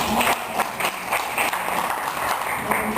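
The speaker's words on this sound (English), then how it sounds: "Congratulations, give them a round of applause." Audience applause for newly introduced chapter officers at a gathering, a short burst of moderately loud, steady clapping with no voices.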